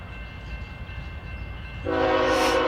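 A train rumbles along near a road crossing in northeast Alabama, a low steady rolling drone, then the horn blares loud and close in a sustained multi-tone blast near the end.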